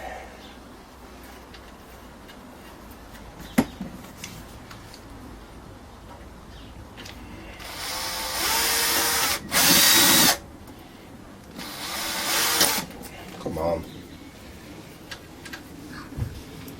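A power drill drives screws into a DIY wheelbarrow built from scrap, firing several short whirring bursts, one noticeably louder, over a quiet outdoor background with faint birdsong.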